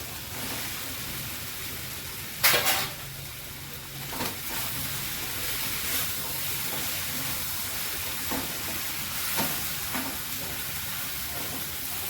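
Potatoes tumble into a hot cooking pot for a soybean and potato curry, a brief loud splash and clatter followed by steady sizzling with scattered spoon scrapes and stirring sounds.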